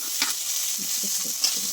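Green peas tipped onto frying winter vegetables with ginger, turmeric, chilli and cumin powder for a vegetable moong dal, sizzling steadily in hot oil while a spoon stirs with a few soft scraping knocks.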